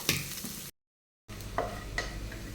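Grated coconut frying in ghee in a pan for wheat paniyaram, a soft sizzle with stirring scrapes, broken by a brief silent gap.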